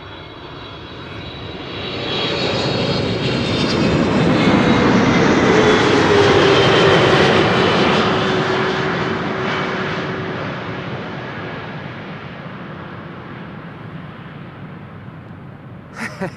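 An 18-year-old airliner, registration PH-BVB, on flight 736 from Willemstad, Curaçao, lands at Amsterdam Schiphol. Its engine roar swells as it approaches, peaks overhead, then fades steadily as it passes.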